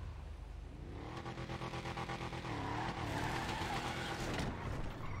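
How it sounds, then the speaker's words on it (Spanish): A car pulls away, its engine rising in a revving whine with rough mechanical rattle and a tire squeal. Loud and close, it builds over about five seconds with no talking. "Ay, espera que muevo el coche"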